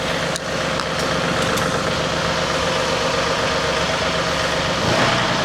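A tractor engine running steadily and close, a continuous dense rumble with a slight rise in intensity near the end as it revs, no voices over it.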